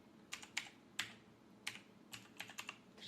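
Quiet keystrokes on a computer keyboard tap out in a short, irregular burst of about eight clicks, close and faint with no voices.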